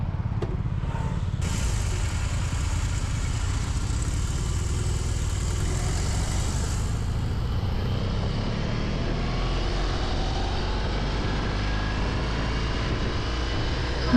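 A BMW R18 motorcycle engine runs steadily while being ridden, a continuous loud low rumble with wind noise, no talking.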